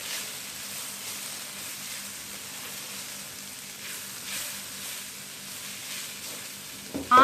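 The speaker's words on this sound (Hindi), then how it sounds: "इन तमाम मसालों को मैं शामिल करके इसमें मिक्स करूँगी।" Okra frying in a pan over low heat as spices such as coriander, turmeric, chaat masala, crushed red chilli and garam masala are stirred in, giving a steady, soft sizzle with faint stirring, ending in a brief louder clatter.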